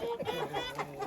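Hens at a country dacha cluck in a busy, overlapping jumble as they rush toward beetroot, several birds close by with short irregular calls.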